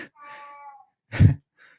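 A house cat gives one short, close meow that rises and falls, followed by a brief low thud and a faint chirp.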